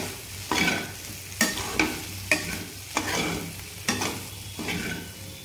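Raw banana fry being stirred with spices in a pan, a soft sizzle broken by regular spatula scrapes about every second, each a bright clatter against the metal, close and steady.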